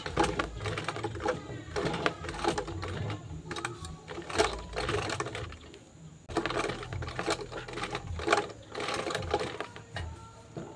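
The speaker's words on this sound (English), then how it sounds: "Just going to back stitch." A sewing machine back stitches a beginner's bag in quick bursts of rapid mechanical stitching, starting and stopping several times, close and fairly loud with no talking.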